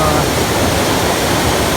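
Water from a small Konkan waterfall pours in a loud, steady rushing roar that stays dense and unbroken throughout.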